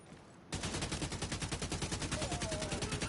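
An AK rifle fires in fully automatic mode in Division 2, a rapid, steady, loud stream of close gunshots that starts abruptly after a brief lull and continues without pause.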